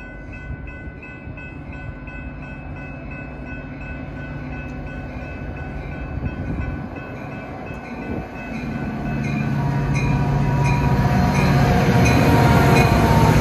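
A Metra UP-NW commuter train pulls into Harvard station, its rumble building steadily louder and closer, with rail squeal and clatter rising over a steady tonal hum.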